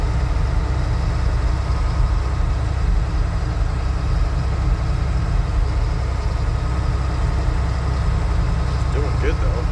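Snogo MP3D snowblower engine running steadily at around 2,000 rpm, a loud, constant low rumbling drone that fills the whole stretch without change.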